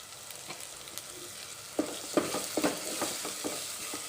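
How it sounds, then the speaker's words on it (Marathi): Spice paste with chili powder and garam masala sautés in a pan for Kolhapuri misal, a soft steady sizzle broken by a run of scraping stirs from a spoon, close and clear with no talking. "त्याला पण 1-2 मिनिटं परतून घेऊया।"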